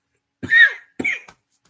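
Two sharp coughs in quick succession, close by, with silence around them.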